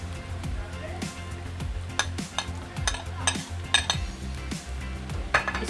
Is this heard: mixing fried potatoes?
yes